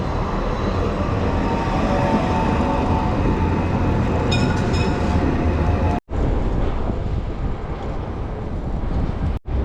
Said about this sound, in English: There's the commuter train.